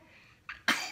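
A single sharp sneeze bursts out near the end, preceded by a brief softer intake, in a quiet indoor room during a shopping haul unboxing.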